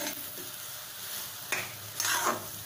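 Semolina sheera with blended pineapple juice is stirred in a pan, giving a steady soft hiss and sizzle with two sharper spoon scrapes near the end, close and alone.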